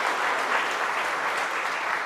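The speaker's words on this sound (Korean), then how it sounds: "박수를 쳐주는데" A church congregation at a Sunday worship service claps together in a brief, even burst of applause, moderately loud and unbroken, with no speaking.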